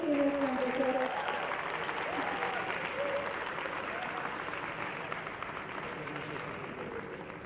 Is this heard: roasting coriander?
no